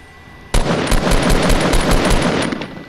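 Rapid video-game gunfire: a sudden burst of automatic shots in a quick, slightly uneven rhythm that keeps rattling for about two and a half seconds, loud and close, with no voices.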